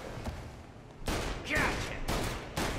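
Gunfire rings out in Mafia Definitive Edition: several loud, close shots in quick bursts after a quieter opening moment, with ricochet-like whines and sustained crackling between blasts.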